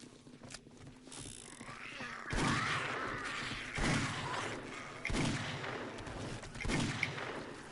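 Hip-fired gunshots in the game 7 Days to Die ring out as several loud, heavy bursts spaced a second or two apart, each trailing into a rough, echoing rumble.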